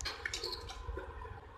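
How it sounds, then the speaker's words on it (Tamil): Water poured into a pressure cooker while making avarai paruppu kathirikai kulambu, a steady splashing, gurgling pour heard close and alone for under two seconds. "இப்போ இதில் தேவையான அளவுக்கு தண்ணி விட்டுக்கலாம்."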